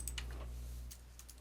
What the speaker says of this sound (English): So you might want to try typing it in